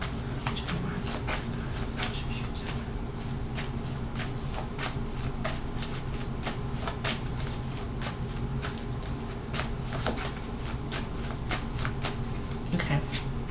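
A deck of tarot cards is shuffled continuously and close up, a steady papery riffling that lasts throughout, with a voice faintly present underneath.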